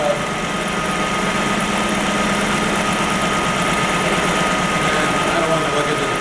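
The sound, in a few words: mini lathe running at 500 RPM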